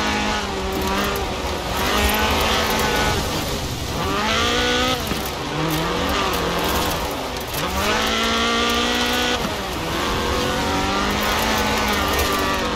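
A Ford RS 1800 rally car engine in Forza Horizon 4 revs and climbs through gears in repeated rising sweeps, loud and continuous under music-like backing.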